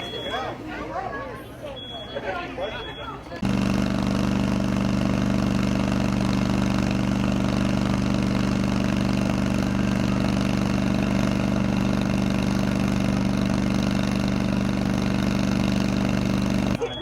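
A backup fire engine pumper idles at a fire department open house, starting after a few seconds of talk as a loud, steady, droning hum that continues unbroken to the end.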